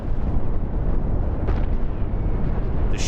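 Chain cannons firing in the Star Trek Cosmoteer space combat game, a dense continuous roar of overlapping blasts and rumble, loud and sustained throughout, with a brief brighter burst near the end.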